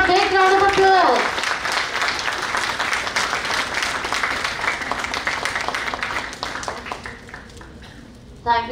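An audience at a college festival session applauds the chief guest: a voice speaks briefly at the start, then a sustained round of dense clapping that gradually thins and fades, with a short voice returning at the end.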